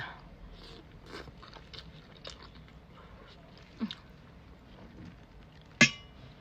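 Someone chews a spicy Thai rice noodle salad mixed with sago worms, producing soft, close mouth sounds with a couple of sharper crunchy bites standing out over quiet background.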